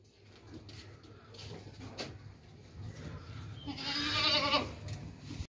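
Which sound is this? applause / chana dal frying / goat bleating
goat bleating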